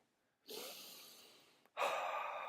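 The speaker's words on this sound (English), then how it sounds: "Breathe all the way into your stomach and all the way out." Two deep breaths close to the microphone: a long inhale fading out, a brief pause, then a strong second breath.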